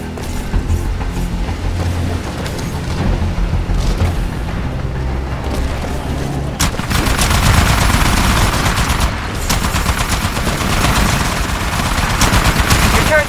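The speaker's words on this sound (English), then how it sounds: "Your turret's really ripping up the IMC." An automated machine-gun turret in Titanfall rattles off rapid bursts while defending a harvester, the dense, loud chatter picking up sharply midway through and running amid explosions and battle noise.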